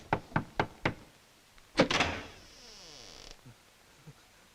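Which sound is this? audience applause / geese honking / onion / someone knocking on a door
someone knocking on a door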